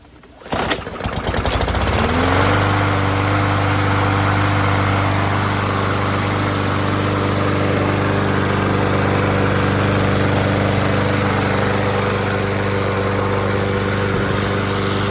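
A 2012 Murray push lawnmower with a 140cc Briggs & Stratton engine, freshly carb-cleaned, pulls to a start and settles into a loud, steady close-up running drone that holds without voices.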